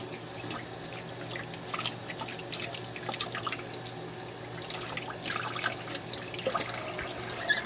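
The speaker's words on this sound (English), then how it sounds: "I'm going to rinse this off real quick." Water runs from a kitchen tap while something is rinsed under it, a steady close trickle and patter with small drips, while making gluten-free hard tack.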